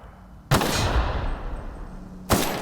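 Gunfire in the sci-fi game The Outer Worlds: a loud shot or burst with a long reverberant tail, then a second burst of fire near the end, with no talk.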